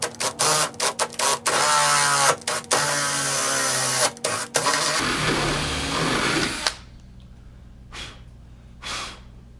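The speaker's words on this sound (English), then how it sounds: "Now we're just going to push through the fiberglass." A drill bores through the fiberglass of a boat hull after cutting through stainless steel, giving a loud, harsh grinding in several stop-start bursts, then a brief steady whine before falling quiet.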